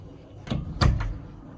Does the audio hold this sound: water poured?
no